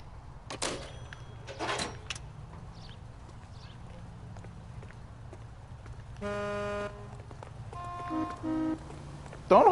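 Car horn honking on a city street in the 1940s Los Angeles crime game L.A. Noire, two distinct honks following hoof clops and a door thud, over a low engine hum.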